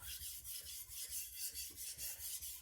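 A MagnaCut steel knife is drawn across Poltava diamond sharpening plates in repeated strokes, giving rhythmic raspy scraping about four times a second. The sound is close and quiet, with no talking.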